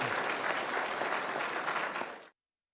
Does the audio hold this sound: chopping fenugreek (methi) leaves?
no